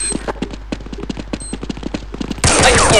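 Rapid Counter-Strike gunfire crackles in uneven bursts of sharp close shots, followed by a louder sustained blast of noise at the end.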